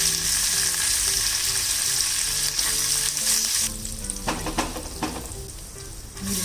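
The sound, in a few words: curry leaves frying in oil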